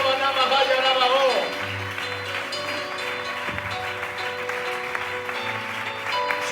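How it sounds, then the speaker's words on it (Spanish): A church congregation claps along at a Spanish-language evangelical service, with music and voices running underneath the scattered applause. "Y a su nombre puedes aplaudirle a tu Dios."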